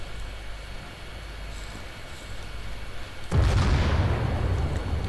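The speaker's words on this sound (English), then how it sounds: "that certainly was the heavy cannon shooting down the shooting down the light tanks" A heavy cannon fires at light tanks in the World War II strategy game Call to Arms - Gates of Hell, one loud booming blast that cuts in abruptly over low battlefield rumble and rolls on into a sustained roar.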